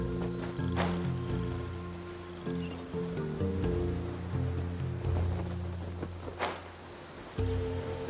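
Rain in the game Genshin Impact, a steady patter of drops on surfaces beneath sustained musical tones of a soundtrack, with a couple of brighter splashy bursts, fairly loud and continuous without talk.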